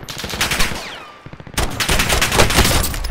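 Dense, loud gunfire from Call of Duty Warzone battle royale practice mode, with rapid automatic bursts, a brief lull, then sustained firing.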